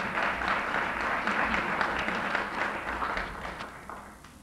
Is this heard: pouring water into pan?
no